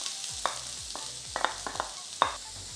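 Diced onion crackles in hot vegetable oil, a soft steady sizzle broken by several sharp spoon taps and scrapes against the pan, close and moderately quiet, no voices.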